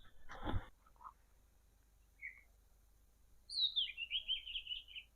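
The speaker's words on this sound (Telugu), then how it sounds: "పిట్టల సప్పుడు చూడండి వినండి" Birds call in quiet green countryside after rain, with a few short chirps spaced apart and then a longer, clear run of rapid twittering notes near the end, all fairly faint against a still background.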